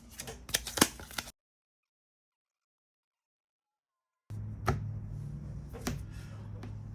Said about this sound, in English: then we shuffle his cards into the deck